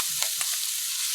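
Scallions frying for fried rice give a constant close sizzle, with a couple of soft taps from stirring.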